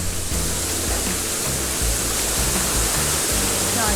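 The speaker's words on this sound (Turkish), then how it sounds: "Şimdi buranın en büyük şelalesine doğru iniyoruz." The large Harbiye waterfall at Defne, Hatay, pours with a loud, steady rushing roar close by, a dense continuous wash of water with low rumbling pulses beneath and no voices.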